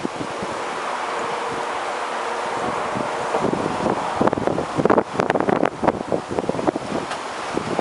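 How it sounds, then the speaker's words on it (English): Strong wind buffets the microphone outdoors, a constant roar broken by gusty thumps and rustling that intensify in the second half. "it's very windy right now, guys. Even the cap is blowing away."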